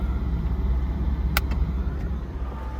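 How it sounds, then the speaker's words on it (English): The roll bar of a 2000 Mercedes-Benz SL600 Sport deploys with a single sharp, brief pop over a low, steady idling rumble, followed by a fainter click. "And here is the roll bar operation."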